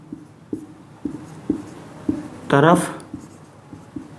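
Chalk or pen taps and scratches out maths in short, evenly spaced strokes about every half second, close and fairly quiet, with a brief burst of Hindi speech partway through.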